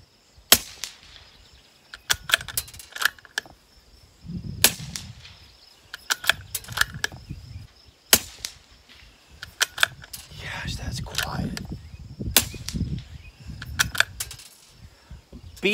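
Ruger Precision Rimfire .22 rifle fired at a target, several sharp, fairly quiet cracks spaced irregularly with a few quick pairs, mixed with handling clicks and someone talking in between.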